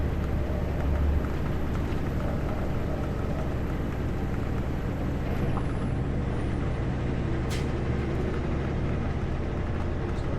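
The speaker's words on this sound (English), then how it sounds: "it's going to take a long time for that truck to pass me" A truck passing on a highway, heard as a steady, dense road roar from close by that holds level throughout, with a short hiss of air near the end.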